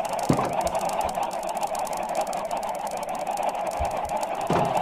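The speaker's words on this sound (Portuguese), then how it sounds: "já vai começando a travar o jogo de tanta, tanta galinha, tanto animal que a gente tem aqui" Many chickens in a crowded Minecraft farm cluck together in a steady, dense chorus of overlapping fowl calls, fairly loud and continuous, with a few sharper calls breaking through.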